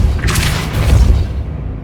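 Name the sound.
Depulso spell cast in Hogwarts Legacy video game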